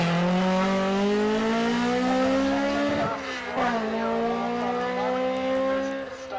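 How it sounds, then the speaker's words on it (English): Ford RS 2000 race car fitted with a Honda S2000 drivetrain at a historic sprint event, its engine holding a strong sustained note, dipping briefly mid-pass before climbing again, loud and close throughout. "Listen to the engine note out of this car."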